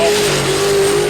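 A Chevrolet Nova drag car accelerates hard in a brief, loud, close burst of engine roar and rising revs.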